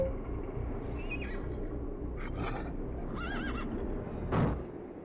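A horse neighs in the video game Battle Realms, a short whinny rising over a steady game ambience, followed by a brief louder burst near the end; no talk.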